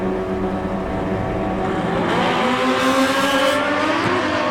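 Drag-racing motorcycles at the Mancup World Finals, including an 07 Suzuki GSX-R 1000, scream past with a rising engine whine that swells and shifts pitch, loud and close, with no talk over it.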